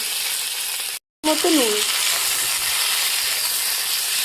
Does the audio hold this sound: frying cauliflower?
yes